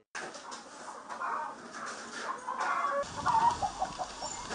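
Chickens cluck and chatter in a large village flock of about two thousand birds in Yanji, a busy overlapping mix of clucks and squawks at close to middle distance that grows louder toward the end.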